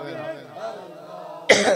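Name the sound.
cough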